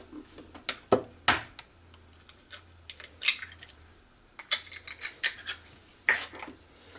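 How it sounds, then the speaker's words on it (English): Three eggs being cracked and added to buttermilk pie filling: a scattered series of sharp taps and clicks against a bowl, separated by short quiet gaps, close and fairly crisp. "We're going to add 3 eggs."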